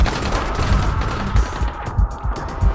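Gunshots in the video game Dying Light sound as a rumbling volley of heavy, booming shots, several thuds pounding in quick succession over a steady low background, fairly loud and without speech.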